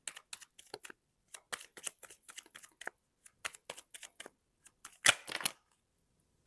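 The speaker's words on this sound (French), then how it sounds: "on me demande de prendre une carte du Lenormand" Lenormand cards are drawn and shuffled in soft, brisk flicks and rustles close by, in uneven bursts with a louder riffle near the end.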